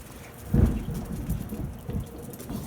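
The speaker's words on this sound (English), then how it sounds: "It is pouring down rain out there." Heavy rain pours down outdoors in a steady wash of noise, with a low rumble of thunder swelling briefly near the start, heard from indoors at moderate distance.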